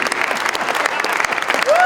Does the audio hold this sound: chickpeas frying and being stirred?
no